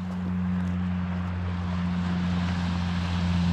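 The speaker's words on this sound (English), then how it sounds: "A lot of planes overhead today." Propeller airplanes drone overhead above a beach on a nice day, a steady low engine hum that holds at an even level throughout, distant but constant, with no talking.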